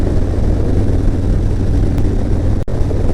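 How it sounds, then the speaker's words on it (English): Continuous loud motorcycle exhaust drone while riding along an open road, steady low rumble with wind rush throughout, dropping out briefly near the end. "I like to hear my exhaust"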